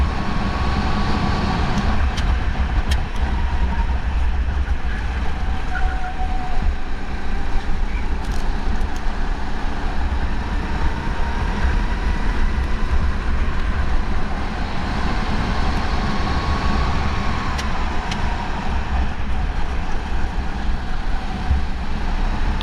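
Racing kart engines during a league race at NJMP, a steady loud droning whine that rises and falls slightly with throttle through the whole stretch, no talk.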